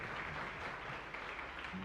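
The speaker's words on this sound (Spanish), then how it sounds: "Y un fuerte aplauso para toda nuestra comunidad." Soft, steady applause from a church congregation during Mass at Capilla Santa Elena in Lambaré, a distant, even patter of many hands lasting the whole moment without any talk over it.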